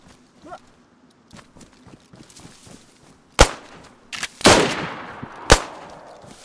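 Loud gunshots in the survival game DayZ, several sharp bursts: a big crack mid-clip, then a louder, longer-ringing shot and one more crack, over quiet ambience.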